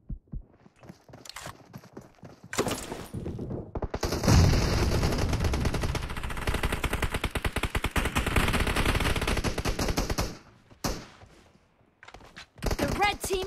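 Sustained automatic gunfire from PUBG Mobile's Halloween zombie mode, loud and dense bursts running for several seconds, with quieter gaps and sparser shots before and after.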